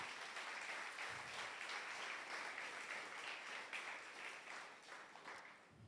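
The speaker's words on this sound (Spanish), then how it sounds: "Démosle un aplauso fuerte al Señor." A church congregation applauds the Lord, a faint, distant sustained patter of many hands clapping that carries on steadily for several seconds before easing off.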